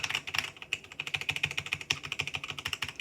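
Fast, uneven typing on a cheap wireless keyboard with gritty brown switches: a dense run of close, crisp key clacks with no voices.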